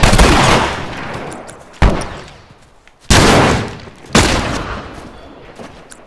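Loud gunfire in The Last of Us: four sharp, booming shots spaced a second or so apart, each ringing out and decaying with a long echoing tail, close and dominant with little else around.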